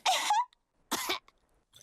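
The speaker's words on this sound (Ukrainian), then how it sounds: "Як я й думав, кашель у Педро такий заразний." A cartoon piglet character, Pedro from Peppa Pig, coughs in two distinct, close bursts separated by a short pause, followed by a faint trailing sound, with no talking.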